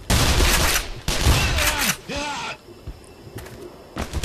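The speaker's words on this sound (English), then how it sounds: "if you secondary fire, it shoots two shotgun shells at once out of both barrels" Shotgun fire in the video game Black Mesa, with loud, dense bursts of blasts early on followed by quieter game ambience and one last burst near the end, with a voice heard over the action.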